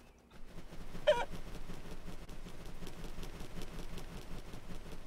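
Chickens in the video game Pig Simulator cluck and squawk amid a steady game backdrop, one brief louder squawk standing out near the start over a quieter repeating ambient pulse.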